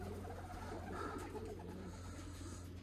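Loft pigeons coo softly while coming down to the loft, low murmuring calls faint against a steady background hum.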